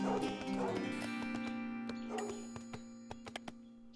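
A dog in the strategy video game 0 A.D. gives soft yips and whimpering barks over a steady droning game background, with a few faint clicks toward the end.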